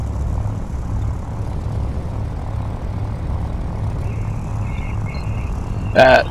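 Heinkel He-219 Uhu propeller engines taking off in the Prepar3D flight simulator, a steady low droning engine roar held at even loudness throughout, ending with a brief louder burst.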